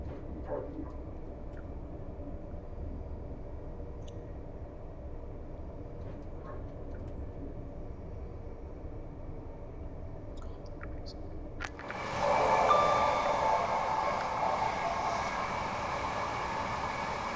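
A Class 801 train in Train Sim World 4 on a Scottish intercity route, a steady low rumble of wheels and motors that turns to a louder, hissing roar as it enters a tunnel.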